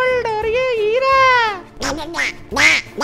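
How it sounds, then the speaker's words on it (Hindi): A video-game duck quacks in a rapid series of nasal, cartoonish calls, loud and close, with a few squeaky cries toward the end. "यहाँ पर ये कोई बतख है, पता नहीं यार ये कैसी बतख है"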